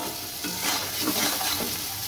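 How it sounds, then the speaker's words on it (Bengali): Soft sizzling and stirring in a pan as taro fries in oil with cumin seeds, a gentle continuous crackle with no voices. "কড়াইতে তেল গরম করে জিরে দিয়ে তারপর কচুগুলো একটু ভাজা ভাজা হয়ে গেলে"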